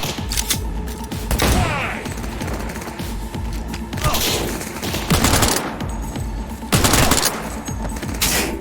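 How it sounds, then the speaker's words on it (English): Gunfire in Cyberpunk 2077 on Xbox Series X, loud repeated bursts of rapid shots with mechanical clatter and thuds, several heavy volleys spread across the stretch. "I keep shooting at you"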